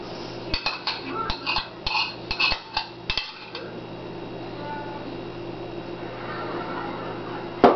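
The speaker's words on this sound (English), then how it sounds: "use a spoon to mix it in with the water in your mixing bowl" A spoon clinks repeatedly against a mixing bowl while stirring butter and water, in a quick irregular rhythm, then stops, leaving quiet room noise.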